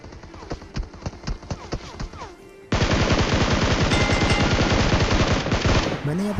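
Automatic fire from a Bizon gun in a video game: a rapid, fairly close string of regular shots, then a dense loud continuous burst of fire that runs to the end of the clip.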